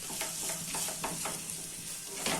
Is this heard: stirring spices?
yes